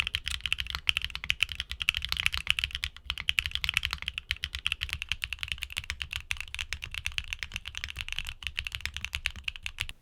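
Steady, rapid typing on a keyboard with HMX mechanical switches, muted, deep-sounding keystrokes, continuous clicking throughout without any voices.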